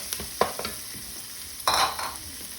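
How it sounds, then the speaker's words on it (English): Onion sautéing in oil in a pan for tortilla soup, a soft steady sizzle with a few utensil scrapes and a louder burst of frying noise midway, heard up close with no talking. "we go with my onion. Next, give that a bit of a saute"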